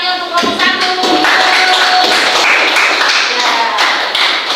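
Audience applause for the first group at a teacher-training presentation session, a steady clatter of clapping filling the whole stretch at close range, with some voices mixed in.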